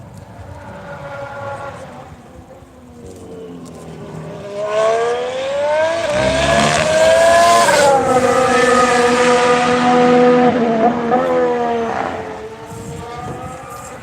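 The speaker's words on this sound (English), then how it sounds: "You see the Ferrari come through." A Ferrari race car sweeps past on a Barcelona circuit, its high-revving engine note rising as it nears, peaking loud and close, then falling away as it passes into the distance.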